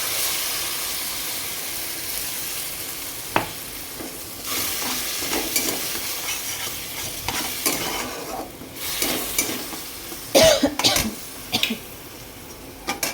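Steady sizzling of pabda fish frying in a pan with green chilli and coriander paste, occasional stirring clinks and scrapes, a broadband hiss running throughout.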